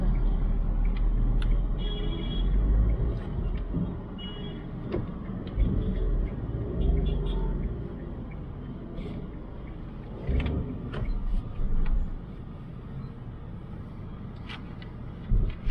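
Inside a Nissan Magnite with a 1.0 turbo petrol engine and manual gearbox, a low steady road rumble and engine drone fill the cabin while the car drives straight, with occasional small knocks over the continuous noise.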